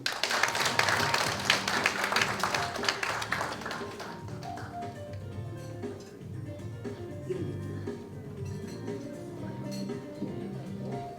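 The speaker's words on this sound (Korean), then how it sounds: "그 감염 예방을 위해서 그 마이크 커버를 교체한 그런 시간이었습니다" Applause fades into a microphone being handled as its cover is swapped, with a series of close, light taps and knocks on the mic body, ending with faint rustling and handling noise.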